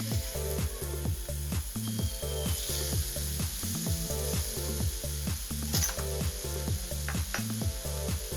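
Chicken pieces frying in melted butter on a grill pan, giving a steady close sizzle under a loud, regular rhythmic background pattern for the whole stretch.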